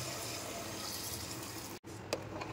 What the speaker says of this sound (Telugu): గుడ్లు మునిగే అంత నీళ్ళు పోసుకోవాలి.